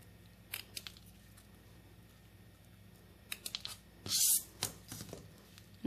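Scissors snip the tails of a ribbon bow in a few quick, close, crisp cuts, brief clicks spaced across a quiet background, with one louder rustling burst near the end and no speech.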